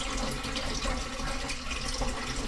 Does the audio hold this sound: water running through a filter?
yes